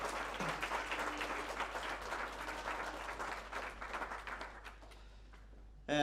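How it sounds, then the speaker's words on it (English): An audience at a fashion conference in Dumfries gives a warm round of applause, dense clapping that swells and then thins toward the end before a sudden louder sound cuts in. "I think she can have a round of applause."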